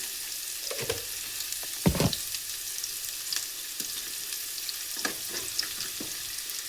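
Mustard and cumin seeds crackle and sizzle in hot oil in a pan for bitter gourd stir-fry, a constant close hiss with scattered pops and a couple of sharper spatula knocks, no talk.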